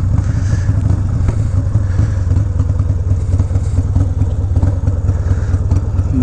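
Harley-Davidson FXR motorcycle engine idling after a restart, a steady low rumbling throb with some mechanical clatter, close and continuous throughout.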